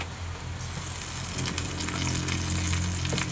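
Onion, tomato and garlic frying together in a pan give a steady, dense sizzle with a soft bubbling hiss, close and continuous throughout, with faint clinks and stirring underneath.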